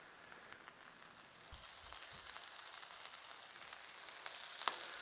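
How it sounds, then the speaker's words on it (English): Buttered bread toasting on a Blackstone griddle set to low, giving a steady, faint sizzle and crackle with a few small pops, alone and even throughout. "I got this right here on low, just so we can toast this bread up."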